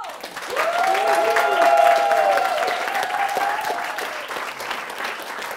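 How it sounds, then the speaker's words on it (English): An audience at an evening talk on attracting money applauds, a dense wash of clapping that swells and holds steady for several seconds, with a sustained tonal hum running underneath. "applause"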